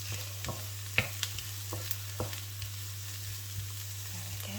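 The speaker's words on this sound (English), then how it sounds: "We're just going to fry this for about a minute." Ingredients for a gluten-free vegan nut roast fry quietly in a pan, a soft steady sizzle broken by light scraping and clicking as a utensil stirs, and a voice speaks briefly.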